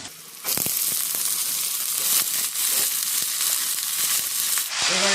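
Pea pod shells and diced potato hit hot oil in a kadai with black cumin and chopped onion, bursting into a loud, steady sizzle after a brief quieter start, with a few faint scrapes and no talk.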